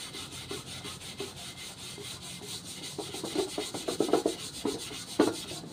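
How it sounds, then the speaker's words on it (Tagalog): Hand scrubbing of an oily, soot-blackened household item during cleaning, a quiet rhythmic rubbing and scraping that grows louder and more forceful toward the end. "Itong part na to dito ang kiskisin ko kung matatanggal mo."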